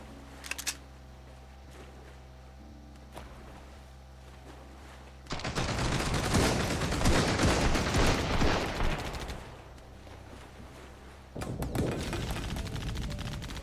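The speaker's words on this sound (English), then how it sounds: "let's just see how well that our auto cannon does for this" Auto cannon firing in the survival game Sunkenland, opening with a few sharp shots over a low engine hum, then a dense, loud burst of rapid fire lasting several seconds, and a second burst at the end.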